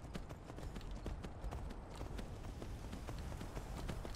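Rapid, rhythmic hoofbeats of a galloping horse in Skyrim Special Edition, steady and continuous, close and moderately loud.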